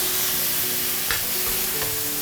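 Minced pork belly sizzles hard in a wok over high heat, a steady dense frying hiss with a few soft stir scrapes, close and alone.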